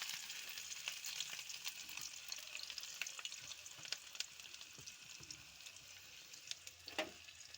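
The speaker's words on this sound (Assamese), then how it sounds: "এয়া এনেদৰে মাছকেইটা ফ্ৰাই কৰি ল'ম" Fish fry in mustard oil in a pan, giving a steady close hiss with crackling pops throughout and no talk.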